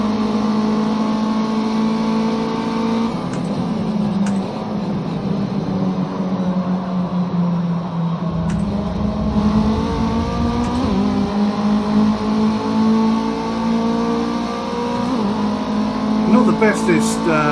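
Race car engine in Project Cars 2 at Oulton Park, a steady droning whine that drops and climbs with gear changes, loud throughout, with a voice talking over it.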